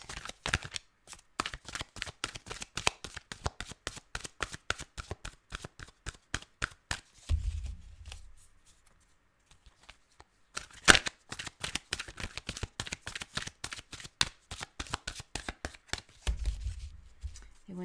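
Rapid rustling riffles of tarot cards being shuffled, repeated in quick bursts with a short pause midway, close and crisp with no talking.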